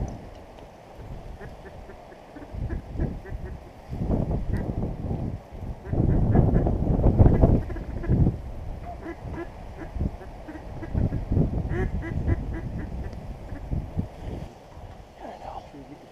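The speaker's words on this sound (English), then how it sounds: "It looks like a mallard." Mallard duck quacks during a Christmas duck hunt outdoors, scattered calls rising and falling over wind noise, with louder bursts in the middle and people speaking quietly at times.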